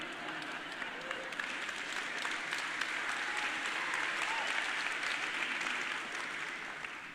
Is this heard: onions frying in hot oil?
no